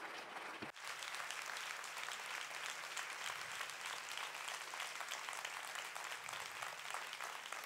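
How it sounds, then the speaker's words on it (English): An audience at a talk on cybersurveillance gives sustained applause, a steady wash of many hands clapping at a moderate level from start to finish, with one sharp bump early on. "So I'd say we should give you a round of applause"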